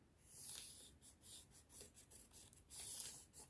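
A pencil scratches faint, rasping strokes across paper while drafting a line on a pencil skirt pattern, a run of short rubbing passes close by with no talk.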